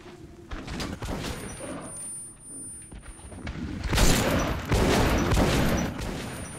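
A gunshot in the video game Metro: Last Light, a sharp booming blast rising out of a dense rumbling game ambience, close and loud, with no talk.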